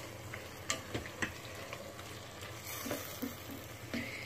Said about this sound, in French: Là, je vais ajouter une boîte de tomates concassées. Je vais bien mélanger.